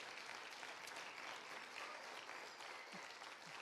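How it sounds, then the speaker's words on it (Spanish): A church congregation at a Spanish-language service applauds together, a steady, fairly distant wash of clapping throughout. "denle un aplauso al Señor y dele gracias al Rey en esta hora."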